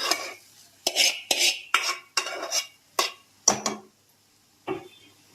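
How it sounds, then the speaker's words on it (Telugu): Cooked fish roe being stirred into a curry in a pan, a spoon scraping and clattering against the metal in about eight distinct bursts with brief pauses between them, close and fairly loud, no talking. "ఇప్పుడు ఉడికిచ్చి పెట్టుకున్న చేప గుడ్లని ఇలా వేసుకోవాలి"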